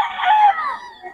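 A rooster crows once among fowl for sale at a poultry market, a loud, drawn-out call with a rising then falling, slightly hoarse tone, heard clearly up close with no talking.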